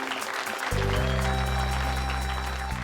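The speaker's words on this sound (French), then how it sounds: "Applaudissez-le." An audience applauds the winner of an essay competition at a ceremony, a broad wash of clapping that sustains as a loud musical tone swells in beneath it.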